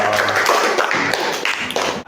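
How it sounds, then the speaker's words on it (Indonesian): A classroom of children clapping their hands together: dense, rapid, overlapping claps fill the whole stretch fairly loudly before stopping abruptly. "Tepuk tangan dulu dong."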